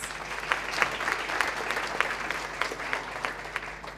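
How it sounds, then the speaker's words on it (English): Steady applause from a mental health conference audience, a dense, even patter of many hands clapping together at moderate distance, holding through with no voices over it. "Another round of applause for Katie, please."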